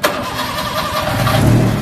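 A second-hand owner-type jeep with a 4K engine starts up with a sharp, close crank, then settles into a loud, steady running idle.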